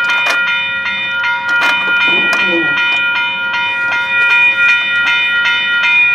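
A CN freight train, number 568, rolls past a level crossing near Stratford, with loud rhythmic wheel clatter and sharp metallic clicks over a steady ringing tone from the crossing bells.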